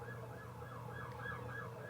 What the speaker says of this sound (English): Of course, there's a police siren.